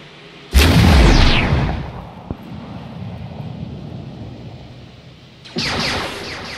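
A frag grenade explodes close by in the Arma 3 military shooter, a loud broadband blast with a long rumbling tail. A second burst of loud noise follows a few seconds later, with a faint sharp crack in between.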